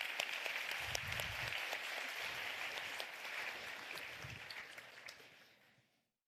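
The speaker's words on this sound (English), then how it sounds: "A big round of applause for Nikki," Conference crowd applause at a UX design event, a broad, even wash of many hands clapping at moderate distance, holding steady before fading out to silence at the end.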